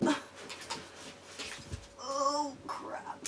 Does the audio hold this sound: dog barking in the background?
yes